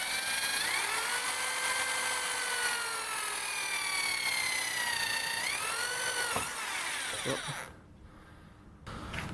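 A power drill whines through the metal of a kayak seat with rising and falling pitch as it bites, then stops abruptly; a short grinding burst follows near the end.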